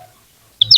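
Healthy young chicks chirp in a brief burst of two or three high, bright peeps near the end, following near silence.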